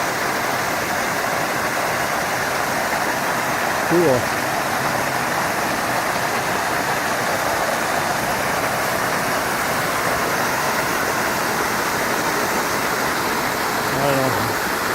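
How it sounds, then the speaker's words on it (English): A small creek flows out of Sylvan Lake with a steady, broad rushing hiss that continues unbroken throughout, and a voice comes in briefly. "And then of course a little creek that goes flowing away."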